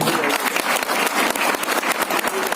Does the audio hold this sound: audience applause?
yes